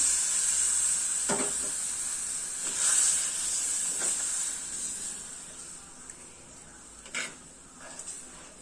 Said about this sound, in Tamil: இது இப்போ நல்லா நம்மளுக்கு கொதிக்கட்டும்.